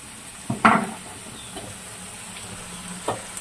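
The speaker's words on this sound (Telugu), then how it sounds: "మటన్ అన్నది ఈ ఆయిల్లో బాగా వేగనిద్దాము" Mutton frying in hot oil for a gongura mutton curry gives a low sizzle, broken by a few sharp stirring scrapes and clinks. It is close and heard without speech.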